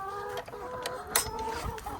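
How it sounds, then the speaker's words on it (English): A backyard flock of chickens clucks softly and continuously close by, with overlapping calls from several birds and no talking. "So I'm out here just double checking on my chickens"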